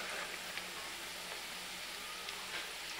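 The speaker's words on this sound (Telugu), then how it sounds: "కలర్ మాత్రం ఈ కొంచెం గోల్డెన్ కలర్ వచ్చే వరకు ఫ్రై చేసుకుందాం." Food frying in hot oil until golden in a Telugu kitchen, a steady soft sizzle with faint crackles, moderately quiet and continuous with no voices.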